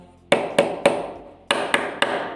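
A hammer taps while children's chairs and tables are being repaired: six sharp, close knocks, three evenly spaced, a short pause, then three more.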